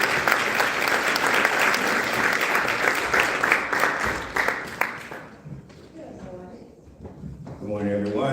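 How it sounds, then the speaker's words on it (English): An audience at an NAACP gathering claps as a speaker comes up to the front, loud sustained applause that fades after about five seconds, leaving a few scattered claps and then voices talking. "Clap him on up as he comes up."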